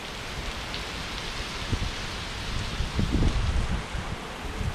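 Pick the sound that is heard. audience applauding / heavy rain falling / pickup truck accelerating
heavy rain falling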